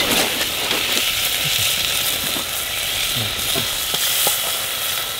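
Foraged seafood — razor clams, crabs and oysters — frying in a pan, a steady close sizzle with occasional crackles and pops and light stirring noises running throughout.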